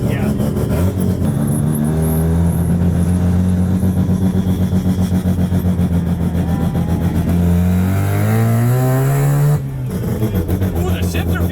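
A 1977 Mazda RX-7 rotary engine revs loudly and accelerates up close, its droning pitch climbing and then dropping with a shift, while people talk over it.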